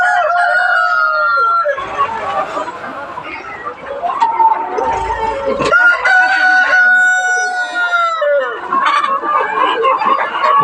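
Chickens and roosters on a poultry farm raising tiger-breed hens: repeated loud crowing from several roosters overlaps with clucking and busy flock noise throughout, close and continuous.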